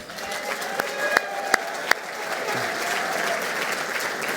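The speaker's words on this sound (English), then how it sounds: "A raucous crowd over there at the Heartland Advisor tables." Audience applause at an awards dinner for a state business hall of fame, a dense, steady wash of clapping hands with a few sharp louder claps standing out near the start.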